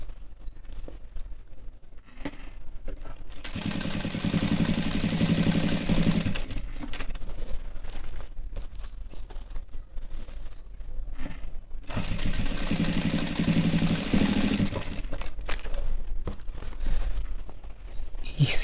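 Industrial sewing machine stitching belt loops on skin-tight men's pants, running in two long bursts of steady mechanical whirring with short pauses and handling noise between them.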